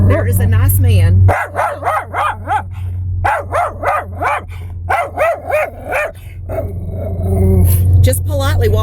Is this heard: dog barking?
yes